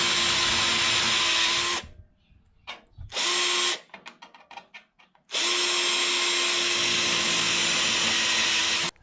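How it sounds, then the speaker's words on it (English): A power drill with a 1/8 inch bit bores holes in rocker panel sheet metal on a Mercury Sable station wagon, a loud steady whine running in two long bursts around a shorter one, with brief clicking and rattling in the gaps. "I'm using an 1/8 inch drill bit to drill the first hole"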